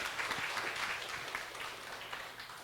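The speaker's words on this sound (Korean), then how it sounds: "박수 한번 할까요?" A church congregation at a homecoming festival talk show gives a round of applause, a soft, fairly distant patter of clapping that slowly fades over a few seconds.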